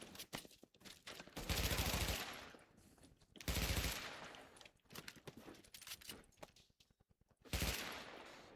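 Gunfire in The Division video game, repeated bursts of rapid automatic shots in clusters separated by short pauses, fairly faint overall with no talking.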